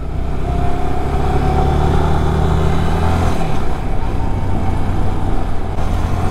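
Yamaha Aerox 155 scooter engine running close and loud with a steady drone, whose tone shifts about halfway through as the scooter moves off.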